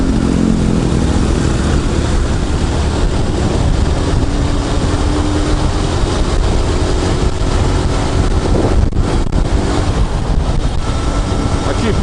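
A motorcycle with a 4-speed gearbox cruises on a road on a morning ride, its engine droning loud and constant throughout with wind rush over the microphone.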